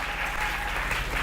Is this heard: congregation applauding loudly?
yes